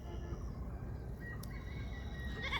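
Goats bleating in a mustard field at dusk, calling out when left behind after the rest of the herd has gone; faint, distant bleats over steady low rumbling background noise.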